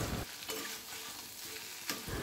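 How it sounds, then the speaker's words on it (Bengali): A vegetable fry with egg hisses softly in a pan while being stirred, a continuous low sizzle with a couple of brief scraping bursts and no speech. "এভাবে আমি নেড়ে চেড়ে ভাজিটা করে নেব।"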